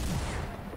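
A short burst of rapid gunfire in the video game Fortnite, loud and dense, fading slightly over less than a second with no talk.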